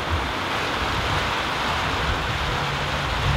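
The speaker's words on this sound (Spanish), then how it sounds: "la lluvia está bien fuerte." Heavy rain pours steadily outdoors beside a sheet-metal shed roof, a loud, even wash of broadband hiss with no breaks and no voices.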